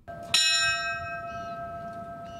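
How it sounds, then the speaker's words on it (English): One memorial bell is struck once and its clear metallic tone rings on and slowly fades over the next two seconds, heard on its own and fairly quiet. "With the ringing of the bell"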